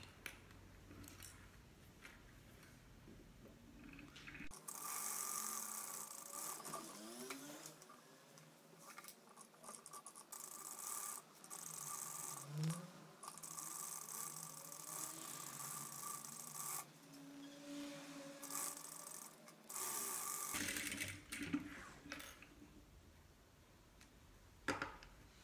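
A sewing machine stitching a kitchen oven glove, a steady rasping, rubbing run of stitches lasting about fifteen seconds, with quieter fabric handling before and after.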